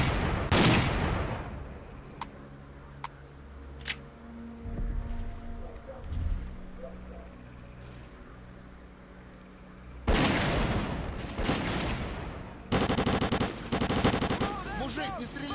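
Shotgun blasts in the video game S.T.A.L.K.E.R.: Clear Sky, a handful of loud, widely spaced booming shots with echoing tails, followed near the end by a denser cluster of firing over faint background ambience.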